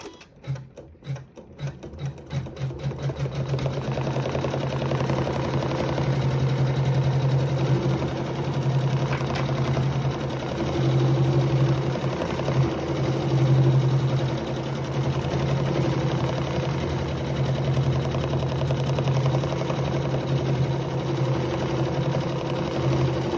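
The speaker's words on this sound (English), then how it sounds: "we'll sew the feathered quilting over fabric 6" A domestic sewing machine stitches feathered quilting over a fabric block, starting with a few slow stitches then running in a long steady rapid whir, close and fairly loud, with brief changes in speed and no talk.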